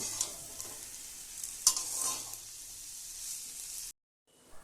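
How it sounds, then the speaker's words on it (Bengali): Water spinach being stirred and mixed in a hot pan, a soft steady sizzle with a few scraping spatula strokes, close by, cutting off abruptly near the end. "সব কিছুকে নেড়ে চেড়ে নিয়ে মিশিয়ে নেব"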